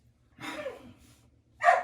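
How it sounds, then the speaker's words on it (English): A small dog gives two short barks or huffs, a softer one and then a sharper, louder one, close by in a quiet room. "Hey, don't you bark at me, Pepper Sue, you little stinky dog."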